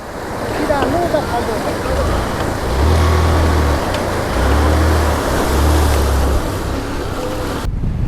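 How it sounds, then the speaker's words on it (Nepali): Strong wind roaring and buffeting nearby in Mustang, Nepal, between Lete and Kagbeni, a loud, continuous rush that swells and eases without pause. "हावा उडै लागिरहेछ।"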